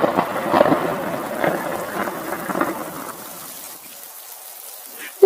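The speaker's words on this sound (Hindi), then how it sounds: "बाहर बहुत तेज बारिश होने लगती है" Heavy rain pours outside a cave in a Hindi cartoon story scene, a dense steady hiss that is loudest for the first three seconds and then thins to a quieter patter.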